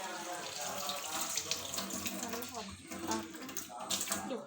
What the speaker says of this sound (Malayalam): ഈ പാത്രത്തിൽ നിന്ന് ചാമ്പങ്ങ കഴുകും.